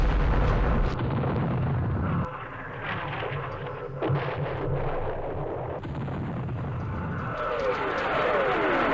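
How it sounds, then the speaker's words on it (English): Artillery explosions in a war strategy video game, Operation Starlite scenario, arriving as dense rumbling booms with a sharp onset near the start, continuing as a steady loud barrage with crackling bursts throughout. "Here comes the artillery"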